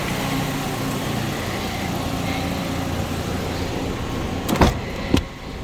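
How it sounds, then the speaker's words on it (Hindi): A car engine runs at a steady idle after starting, a close, even hum with a couple of sharp clicks near the end. "जुल्फ़िकार साहब ने गाड़ी स्टार्ट कर दी"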